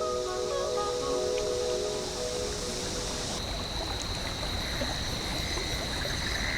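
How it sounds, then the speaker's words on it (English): Creek in the bush in the video game Big Walk, a continuous rushing, trickling water noise with steady tonal hums fading in and out, no voices. "Sometimes it's nice just to sit by a creek and listen to the wind in the trees."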